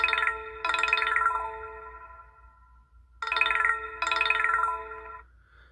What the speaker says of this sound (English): let's just show you how loud this ringer actually is on this phone.